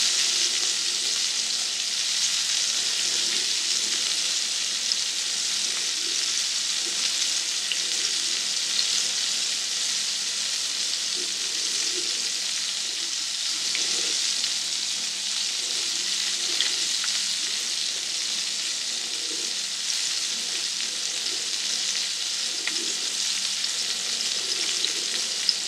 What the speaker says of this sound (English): since your oil is absolutely hot, they get cooked really fast